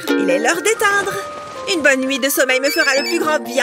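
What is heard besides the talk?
mobile phone ringtone ringing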